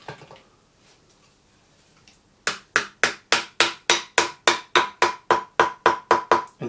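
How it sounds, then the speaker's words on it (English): A steady series of about fifteen light, sharp metallic hammer taps on the iron of a traditional-style wooden jointer plane, evenly spaced and close, following a quiet stretch of faint handling. "just with those few light taps there with the hammer"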